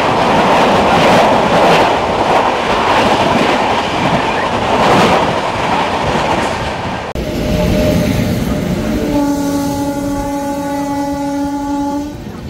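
The Puri Shalimar Dhauli Express runs loud and close on its tracks with a heavy rumble and rattle, then the rolling noise shifts and a long steady train horn sounds near the end.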